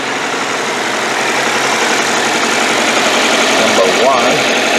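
A Toyota engine with a cylinder 1 misfire idles in a steady, close, mid-to-low rumble with a slightly uneven pulse, heard under a talking voice throughout.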